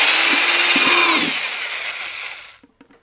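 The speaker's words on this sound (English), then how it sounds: "we're going to create some holes into the bottom of the container" Power drill boring drainage holes through the bottom of a plastic container, a loud steady whine that winds down and stops near the end.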